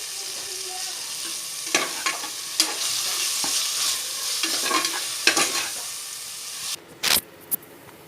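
Tomatoes, onions and garlic sauté in a pan for a South Indian rice and lentil dish, a continuous sizzling hiss broken by repeated spatula scrapes and stirs, with a louder clatter near the end.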